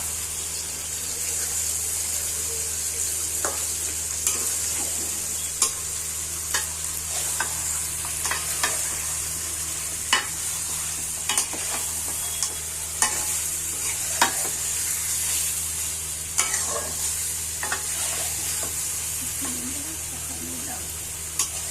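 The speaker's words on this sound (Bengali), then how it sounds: "এখন লাড়াচাড়া।" Duck meat frying in a pan while being stirred, a constant close sizzle punctuated by repeated scraping clicks of the spoon at an irregular pace, with a low hum underneath.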